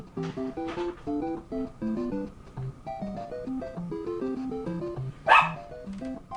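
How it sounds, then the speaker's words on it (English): Dog barks come through amid a busy musical backdrop, with one sharp loud yelp near the end rising above the music. "Damn dog doesn't bark all day till I try and make a damn video."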